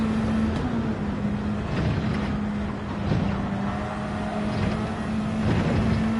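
A car in Gran Turismo 7 stalls in fourth gear on an uphill: a steady, strained, low engine drone holds close and continuous without revving out, under no talk.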